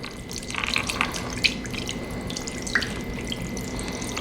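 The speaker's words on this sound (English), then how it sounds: "we're just gonna pour it over top of this picnic roast here" Cooled brine is poured over a pork picnic roast in a bowl, a steady splashing trickle of liquid with occasional drips and gurgles, close and continuous without talk.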